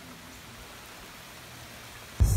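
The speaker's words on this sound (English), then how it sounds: "I came for the sun, not for the rain." Steady rain in Tennessee falls as a soft, even hiss throughout, ending in a sudden louder burst of rumble at the very end.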